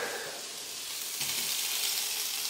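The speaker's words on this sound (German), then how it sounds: "So, das Zeug ist jetzt am Anbraten." Meat and onions frying in a hot pan for a homemade döner: a steady close sizzle that swells louder and brighter partway through, with no talk over it.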